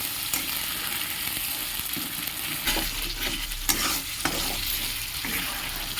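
Poppy seed paste masala with ginger, garlic, onion and green chilli fries and is stirred in a pan for katla fish, a steady close sizzle with scraping stirs throughout.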